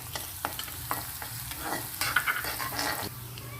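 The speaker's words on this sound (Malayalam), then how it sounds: "ഇനി സവോളയൊക്കെ നല്ലപോലെ ഒന്ന് വഴണ്ട് വരട്ടെ, അതുവരെ ഒന്ന് ഇളക്കി കൊടുക്കാം" A spoon scrapes and stirs onions sautéing in a pan for Kerala-style rava upma, with soft sizzling and a few sharper clinks of utensil against metal, close and fairly quiet.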